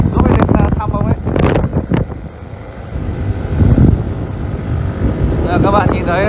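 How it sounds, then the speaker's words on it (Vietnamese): Strong wind buffets the microphone on a mountain border road between Dong Van and Binh Lieu, a loud steady roar, while people talk over it. "trời rất là gió to"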